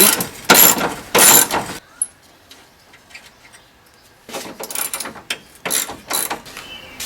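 A ratchet undoes 10mm screws on the radiator retaining brackets of a Honda CR-V, loud close clicking bursts, a pause with faint ticks, then more rapid ratcheting strokes.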